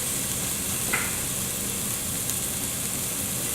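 Onions and celery frying in olive oil in a heavy-bottomed pot, a steady close hiss of sizzling with a faint crackle or two, no one talking.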